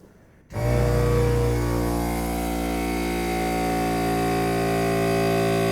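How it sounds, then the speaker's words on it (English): An air compressor in a jet-boat workshop kicks on abruptly after a quiet moment and runs at a steady, loud motor drone as its tank fills, with no voices over it. "Turn the compressor on, see how long it takes to fill up."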